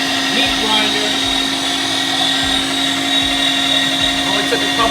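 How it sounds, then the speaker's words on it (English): A Made with Meat 500 watt electric meat grinder hums steadily while grinding chuck, its motor drone constant and close, with a faint periodic churning from the auger. "this is the Made with Meat 500 watt meat grinder"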